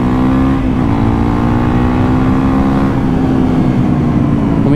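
A Honda CRF 300L motorcycle engine revs steadily on the throttle, a loud continuous droning roar with a slight pitch rise toward the end and no pauses.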